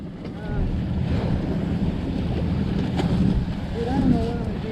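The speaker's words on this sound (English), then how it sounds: "Now we're getting some gusts." Wind gusts roar across the microphone aboard a sailboat out on the water, with sustained broadband rushing, steady wave wash, and brief faint voices in the background.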